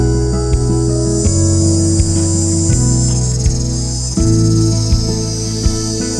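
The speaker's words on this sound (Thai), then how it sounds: "นี่คือเสียงจักรจันนะครับ" Cicadas in a Thai farm garden drone steadily, a loud, continuous buzzing chorus with a faint rhythmic pulse running through it, nearby and unbroken by speech.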